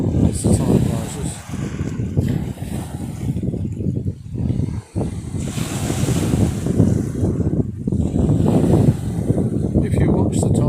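Sea waves washing over rocks as the tide rises, a continuous broad surf roar with surges and gusts of wind noise, fairly loud and close throughout.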